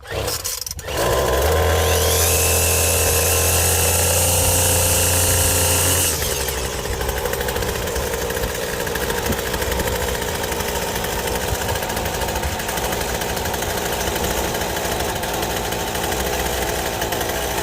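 A salvaged petrol string trimmer's small two-stroke engine catches and screams loudly at high throttle for several seconds, then drops to a steadier, lower running buzz that continues alone and up close.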